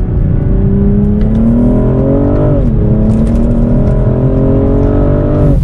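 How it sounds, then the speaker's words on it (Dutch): BMW M440i xDrive engine, 2021 model, accelerating in Sport Plus mode with manual paddle shifting on a snowy road, a loud steady inline-six rising in pitch, dipping briefly at a gear change, then climbing again. "Deze wagen klinkt heel goed als je sneller gaat dan 20 km per uur."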